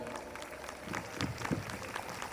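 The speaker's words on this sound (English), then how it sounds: "I would like to extend my heart to give a huge round of applause to Miss Ashika Jan and Miss Oishi Mondal." Audience applause at a school annual day celebration, a moderate, fairly distant wash of clapping with a few louder bursts, no speech over it.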